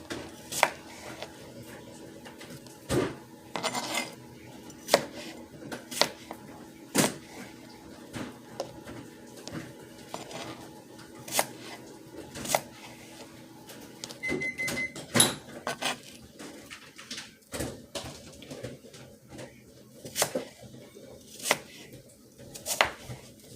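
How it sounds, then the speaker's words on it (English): Apples being chopped on a cutting board for snicker salad, with sharp knife strikes landing in an irregular rhythm over a quiet room background for a long stretch. "now you got them all chopped up"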